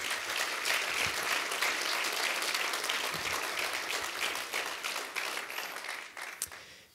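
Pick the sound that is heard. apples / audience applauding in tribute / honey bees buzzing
audience applauding in tribute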